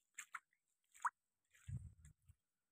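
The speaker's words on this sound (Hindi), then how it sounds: "यहाँ से नीचे आ रहा है, यहाँ से पानी" Water drips down from a flooded rooftop after very heavy rain, a few sparse wet plops and squishy drips spread apart, quiet and close with brief gaps of silence between them.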